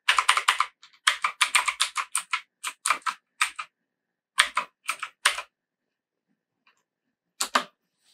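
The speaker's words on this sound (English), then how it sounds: "type in the address of where you want to shop" Someone types a web address on a computer keyboard in quick bursts of crisp key clicks, close and clear, with short pauses between runs of keystrokes.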